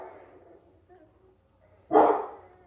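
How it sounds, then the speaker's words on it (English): German Shepherd barking in the background, one loud bark near the end after a stretch of quiet room sound with faint, low whimpers. "That's Daddy barking in the background."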